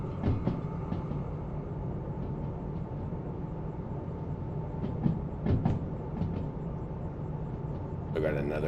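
A DH4 locomotive rumbles steadily through a bend in the Derail Valley train game, with a continuous engine drone and occasional metallic rail clicks, while a voice talks faintly over it.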